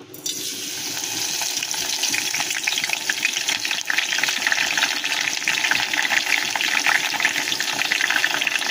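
Curry leaves hit hot oil and crackle into a loud, dense sizzle that rises after the first moment and holds steady, close and bright, with no one talking.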